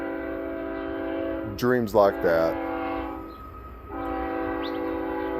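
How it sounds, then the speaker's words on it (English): A train horn sounds in the distance as a long steady sustained blast that runs through most of the stretch, while someone talks over it partway. "Let's get past the train that has to blow its horn 15 times."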